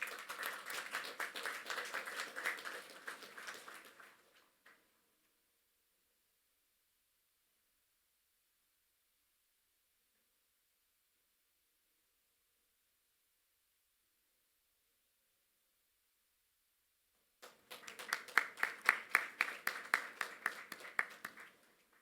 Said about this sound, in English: Please, let's have a huge round of applause for him.